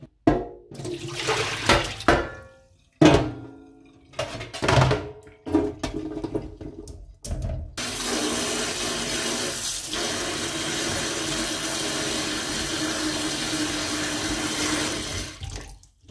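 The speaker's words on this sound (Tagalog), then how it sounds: "tanggalin natin, hugasan natin mabuti" Foraged wild mushrooms are rinsed by hand. Intermittent splashing and handling noises come first, then a steady, close stream of running tap water fills the second half, with no talking.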